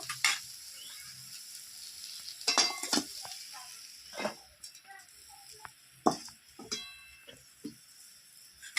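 Young jackfruit and prawns sizzle in a frying pan, a faint steady hiss broken by sharp scraping and clinks of a spatula stirring against the pan at irregular moments.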